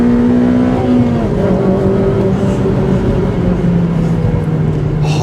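The K20A engine of a Honda Civic Type R FD2 with a 6-speed gearbox holds a sustained high-pitched rev. The strained tone dips slightly and keeps going, loud and close.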